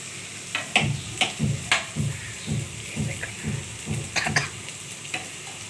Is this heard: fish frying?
yes